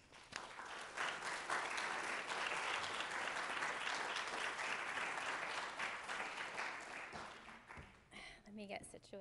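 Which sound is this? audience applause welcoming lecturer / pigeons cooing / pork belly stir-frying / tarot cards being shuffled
audience applause welcoming lecturer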